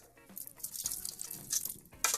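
Hot water draining off cooked noodles, a continuous splashing, dribbling pour with bursts of liquid hitting a sink, close and fairly loud.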